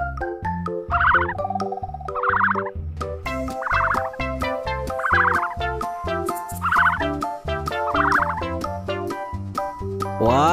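Repeated turkey gobble sound effects from a children's toy-animal scene, six bursts spaced over a busy, bouncy musical backing with a steady beat.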